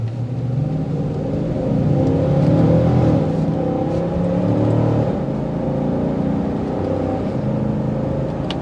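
A 2023 Dodge Durango R/T Blacktop pulls away from a green light, its engine giving a loud, low rumbling growl that builds steadily as it accelerates, heard from inside the cabin with no talking.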